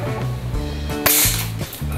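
An S&T M1903A3 bolt-action airsoft rifle fires a test shot, a sharp loud snap partway through, surrounded by a steady mechanical hum and ratcheting clicks.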